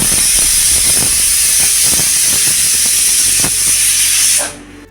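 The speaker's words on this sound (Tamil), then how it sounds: "குக்கர் விசில் வந்துருச்சு." A pressure cooker whistles loudly and steadily as it vents steam while making one-pot sambar rice, a harsh continuous hiss that holds for over four seconds and then cuts off sharply.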